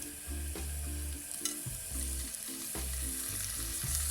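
Oil sizzles in a hot pan heated for Portuguese-style steak, a steady broad hiss under low tonal hum, with a few brief clatters against the pan.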